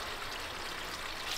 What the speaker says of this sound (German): Man hört es plätschern